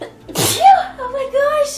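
A single sharp sneeze bursts out up close, followed right away by an excited spoken exclamation.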